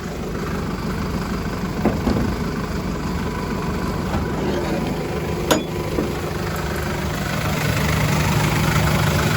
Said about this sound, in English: I'll turn the engine off just so you can hear me a bit better.